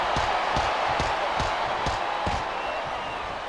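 A wrestling arena crowd in WWE SmackDown vs Raw 2008 roars steadily, with regular thuds of in-ring impacts landing under the continuous cheering.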